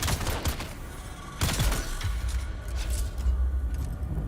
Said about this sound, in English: That took a lot of shots that I wasn't expecting it to take.